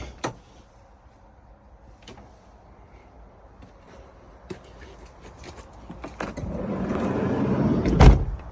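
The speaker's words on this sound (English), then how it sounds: "The doors on these Peugeots are rather heavy, but they do close nicely." Heavy doors on a Peugeot Boxer medium-wheelbase campervan shut with several sharp, separate thuds over a quiet background, followed by a swelling rush of noise and a final loud slam.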